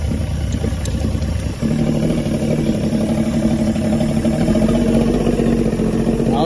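A 1986 85 hp Force outboard engine on a Bayliner boat, with a sticky throttle and a habit of stalling when shifted into gear, runs nearby with a rough, steady drone that steps up slightly partway through, over a constant background hiss.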